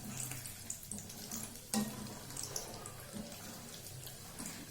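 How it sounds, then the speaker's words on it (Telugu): Soaked, drained rice dropped into hot oil to fry for a homemade kids' snack, giving a steady close sizzling hiss with dense crackle and one brief sharper clatter partway through, with no voices. "ఆయిల్ వేడెక్కిన తర్వాత రైస్ సగం వేసుకొని"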